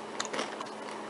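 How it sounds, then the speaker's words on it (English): Close, crisp crunching as someone bites and chews raw BBQ chips with a cracker-like crunch, a few sharp bites in quick succession over about a second with no talking. "They're like cracker crunchy."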